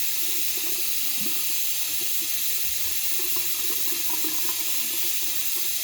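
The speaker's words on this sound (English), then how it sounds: "getting water all over the place" Water runs from a tap into a sink as a steady, even hiss at moderate level for several seconds. There is no talking.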